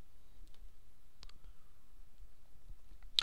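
A computer mouse clicks a few times at scattered moments, faint and isolated against a quiet background, with one sharper click near the end.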